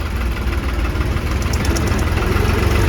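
Tractor engines rumbling at a large farmers' tractor rally in Ludhiana, a loud, steady low throb of idling diesel motors with a knocking, vibrating edge, close and continuous with no talk.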